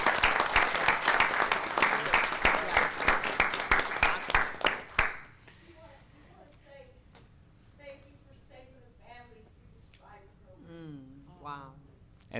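Audience applause at a school district board of trustees meeting, a burst of dense clapping for a new staff member's parents that lasts about five seconds and stops abruptly, followed by quiet room noise and a person speaking.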